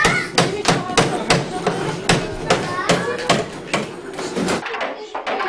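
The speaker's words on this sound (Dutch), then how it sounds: "Wow, jij kan hard timmeren." Sharp, repeated hammer blows strike in an uneven rhythm, loud and close, with a voice chattering between the hits.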